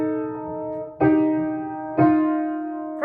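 Piano sounding soprano and alto parts together in a dissonant, crunchy harmony: three struck chords about a second apart, each ringing and slowly decaying, quiet and close with no talking.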